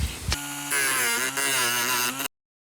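A Dremel rotary tool fitted with a small angle grinder disc cuts into a helmet, giving a loud, steady high-pitched whine with a harsh rasp that runs for about two seconds and then cuts off abruptly.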